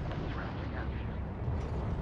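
A torpedo and missile strike in the space strategy game Homeworld 3 ends in a heavy, rumbling explosion that roars continuously and low without a break.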